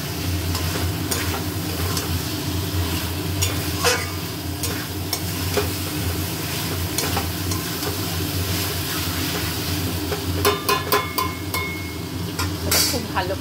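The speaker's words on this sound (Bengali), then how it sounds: "মাটন কষানো হচ্ছে, সঙ্গে এই যে আলু আমি ভেজে রেখেছি, আলুটাও দিয়ে দিচ্ছি" Mutton and pre-fried potatoes sauté together in a pan, a steady close sizzle with repeated scraping and knocking of a spatula stirring, growing busier toward the end.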